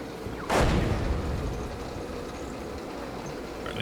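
An artillery shell lands in the tank game GHPC, one heavy booming impact followed by a long rumbling tail that stays loud behind it.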